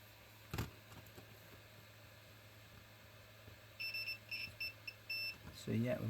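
A multimeter set to continuity mode beeps while a broken USB power socket on a dashcam is being tested, giving a run of short, moderately loud electronic tones with a few gaps, ending in a louder burst.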